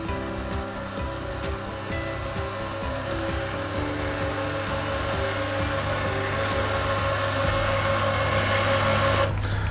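Motor of a cassetted motorised roller blind raising the blind, a steady low mechanical hum with faint whirring, continuous for several seconds and stopping with a soft click at the end.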